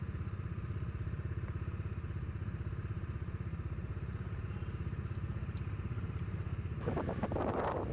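A motorcycle rides a mostly off-road route toward Mechuka, its close engine holding a steady pulsing thrum, with a rougher rattling burst near the end.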